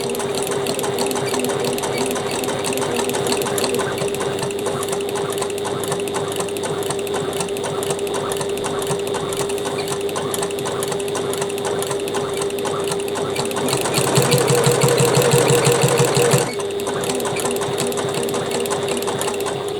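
A sewing machine stitching a curved quarter-inch seam on a Paloma bag, its steady rapid mechanical whir running throughout, briefly louder and faster for a couple of seconds near the end.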